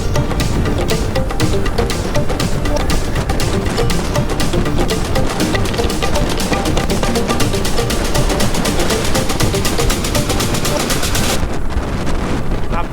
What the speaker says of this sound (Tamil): பார்த்தீங்களா எவ்வளோ விண்டு.